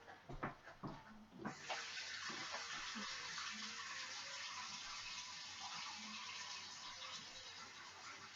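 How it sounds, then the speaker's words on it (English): Faucet water gushing steadily into a sink during handwashing, starting after a few clunks and taps, then a continuous close hiss with faint rubbing noises, no talking. "Pardon me 1 second while I wash my hands"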